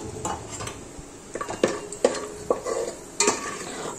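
Cashews frying in oil in a pan after onions, with a soft sizzle under sharp metallic scrapes and taps of a ladle against the pan, several distinct knocks spaced across the stretch; no talking.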